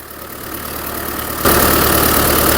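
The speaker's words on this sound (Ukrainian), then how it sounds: "Ось такий вітер, природа, шум трактора." Loud engine running steadily outdoors, a tractor's chugging drone, with a sudden jump in loudness and brightness halfway through.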